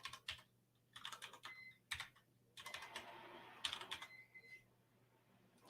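Password being typed on a computer keyboard, quiet bursts of key clicks in several short runs with pauses between, close and alone without voices.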